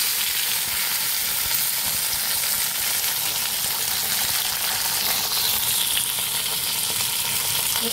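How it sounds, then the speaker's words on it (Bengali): Ivy gourd (kundri) stir-fried in a pan with green chilli, a loud steady sizzle of hot oil with stirring scrapes throughout, no voices. "কুঁদরিগুলো দিয়ে দিলাম। নেড়ে চেড়ে মিক্সি করিয়ে নিই।"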